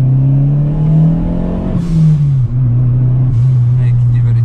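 A Ford Ka 1.6 with a turbo kit accelerates hard, heard from on board: a loud, steady engine drone rising in pitch, then dipping at a gear change before climbing again.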